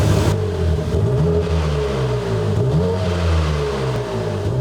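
A 2023 BMW G87 M2 fitted with a DTX exhaust system, running in comfort mode, gives a steady, close engine drone with low rumbling harmonics and gentle rises in pitch as it revs, with no talk.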